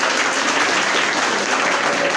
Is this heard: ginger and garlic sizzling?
no